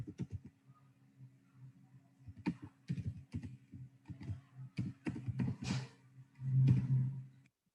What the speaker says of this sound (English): I'm typing my login ID.